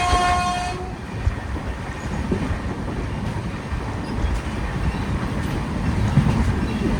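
A small ride train at a water park rumbles steadily and close, with a brief horn toot at the start followed by continuous rolling noise.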